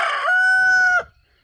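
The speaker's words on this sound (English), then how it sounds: "Sometimes I think that roosters are in a conspiracy against me talking on a video." A rooster in a chicken coop gives one loud, close crow, a sustained cock-a-doodle-doo that holds steady and then cuts off abruptly, heard alone.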